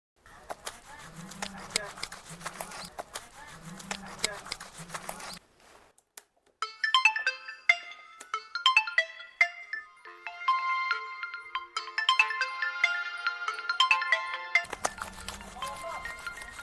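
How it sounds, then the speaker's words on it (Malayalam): Incoming call ringtone on a mobile phone, a bright melodic tone pattern repeating for several seconds between stretches of speech. "മോനപ്പ അനന്തൻ 2 വിളിക്കുന്നു"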